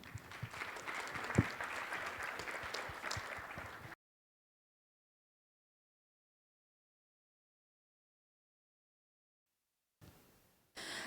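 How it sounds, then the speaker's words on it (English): Audience applause at the China Global Think Tank Innovation Forum in Beijing, a dense, steady clatter of many hands lasting about four seconds, then silence before a faint burst of room noise at the end. "encouraging applause for this success discussion."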